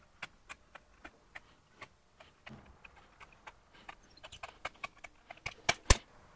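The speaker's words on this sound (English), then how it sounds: "Then I'll use aircraft snips to make the curved cut." Aircraft snips cut a curved line through copper sheet, giving a series of sharp, separate clicks and snaps. The cuts are sparse at first, then come quicker and louder, ending in a few strong snaps.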